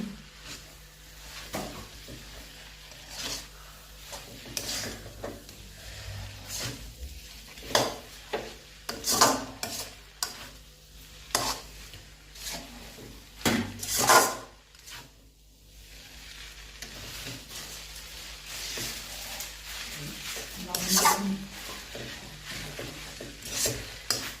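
Noodles being stirred in a pan with a utensil, producing repeated scraping, rubbing strokes and a soft sizzle, loud and close, without speech.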